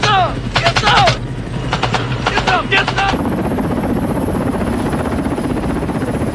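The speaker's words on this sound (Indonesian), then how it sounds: "Setelah berhasil mendaratkan helikopter" Helicopter in a Vietnam War film, heard first over overlapping chatter and bursts of sound, then a steady close thumping rotor drone with a high whine that carries on alone.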